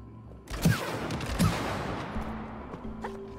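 In the It Takes Two video game, a couple of loud gunshot blasts go off, each followed by a lingering explosive rumble and a tail of game effects.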